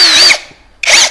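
An APR 13 Pro cordless drill whirs in two loud, close bursts, the high-pitched motor spinning up, cutting off briefly, then revving again.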